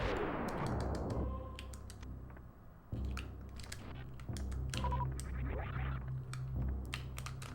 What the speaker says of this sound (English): charge a shot, select power bombs, charge a shot, release it, jump over it, and lay the power bomb